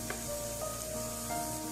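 Schezwan sauce being stirred into a hot sizzling pan for fried rice gives a steady, soft hiss of frying with faint scraping from the mixing, fairly quiet and continuous with no voices.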